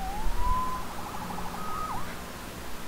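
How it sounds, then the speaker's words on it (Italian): A police siren from the Spider-Man PS4 game rises and wails in a single drawn-out tone, faint and distant over a low background rumble. "Salvato dalla sirena."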